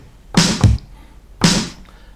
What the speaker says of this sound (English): drums are from the Fairlight 2 and sound like this